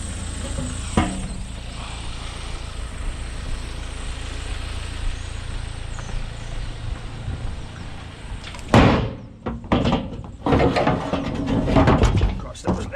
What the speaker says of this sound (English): I'm slamming a metal radiator onto a metal plate